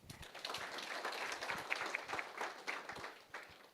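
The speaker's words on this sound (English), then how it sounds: "Another round of applause" A crowd claps steadily at a youth post-election discussion event, a continuous close patter of many hands holding an even level throughout.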